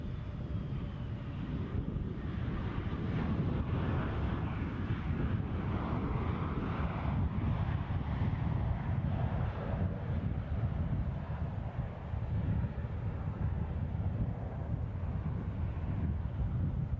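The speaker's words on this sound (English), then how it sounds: "fairly steady breeze." A fairly steady breeze buffets the microphone at Edinburgh Airport, producing a continuous low rumble of wind noise with faint distant engine hum and no talk.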